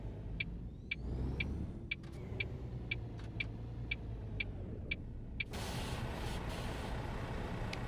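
A truck carrying a large container drives along a road in Hamburg with a steady engine rumble and passing traffic noise. A regular series of short electronic beeps ticks over it, and the sound turns to a broader rushing hiss partway through.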